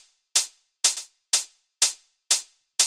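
Softened-attack hi-hat sample for Afro house, with a shaker-like swell, repeats in an even pulse of about six hits, one a quick double, clear and close with no talk.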